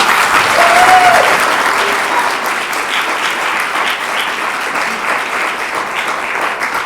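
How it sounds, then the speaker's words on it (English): An audience at an International Women's Day celebration in Pawtucket gives students a round of applause, loud and sustained clapping from a large crowd filling the room throughout. "let's give them a round of applause"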